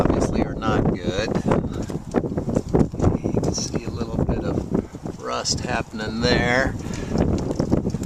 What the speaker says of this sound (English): Sorry about the wind today.